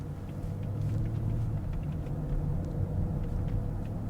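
A 2024 Audi SQ8 driving along, heard as a low steady cabin rumble of engine and road noise, even and muted throughout.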